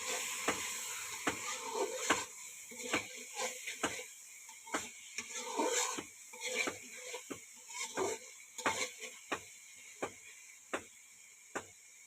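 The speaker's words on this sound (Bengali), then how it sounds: "এখন একটা তরকারি বসানো আছে, গুঁড়া চিংড়ির তরকারি। মাটির চুলায় রান্না হচ্ছে।" Dried shrimp curry cooking in a pan on a clay stove, with a soft sizzle and a run of sharp, evenly spaced clicks and scrapes from stirring. It sounds close and fairly quiet.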